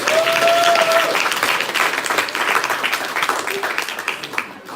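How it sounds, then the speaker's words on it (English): Audience applause fills a concert hall, dense continuous clapping that is loud at first and gradually tapers off, with some crowd noise and a brief voice mixed in. "So give yourselves a round of applause for that."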